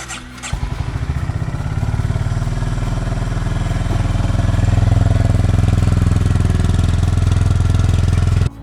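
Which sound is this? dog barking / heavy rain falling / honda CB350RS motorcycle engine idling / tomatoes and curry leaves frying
honda CB350RS motorcycle engine idling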